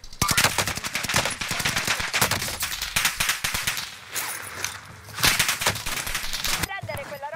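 Rapid bursts of machine gun fire in the video game Warzone crackle almost continuously, loud and close, with brief pauses between volleys and a voice talking faintly underneath.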